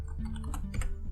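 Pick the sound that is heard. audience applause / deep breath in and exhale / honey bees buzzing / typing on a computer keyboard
typing on a computer keyboard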